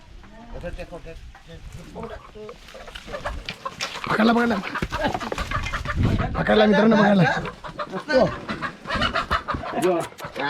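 Nearby village rooster clucks and squawks mixed with people talking and rustling movement as they try to catch it, the calls rising in agitated bursts.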